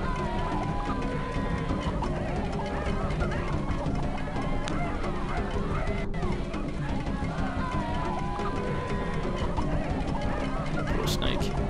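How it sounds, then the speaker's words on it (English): Chickens clucking and squawking in the video game Gabriel Knight: Sins of the Fathers, a busy, continuous flock sound mixed with game effects while people talk over it. "Dancing with chickens."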